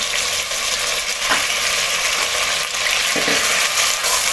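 Mutton just added to a hot pan for mutton do pyaza, sizzling loudly and continuously up close, with a few soft knocks of stirring against the pan.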